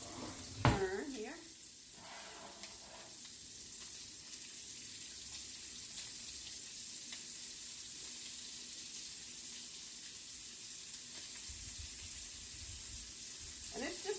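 Shrimp and scallops frying in olive oil in a pan, a soft steady sizzle running under a brief sharp clatter near the start, with faint speech in the background.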